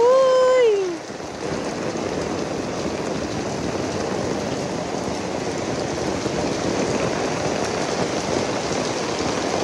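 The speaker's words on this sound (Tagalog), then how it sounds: "Ulan pa more." Heavy rain pours down steadily in Davao, a dense loud hiss of drops drumming on surfaces that continues unbroken throughout, preceded by a brief rising voice at the very start.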